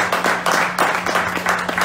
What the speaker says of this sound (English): give him a round of applause for being here